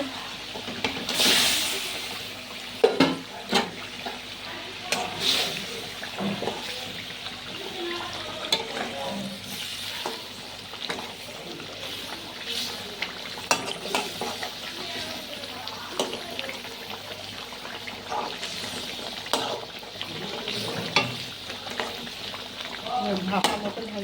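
Katla fish pieces going into a hot pan with oil, frying with a steady sizzle broken by scattered clatters and stirring knocks, fairly close, with a little talk in places.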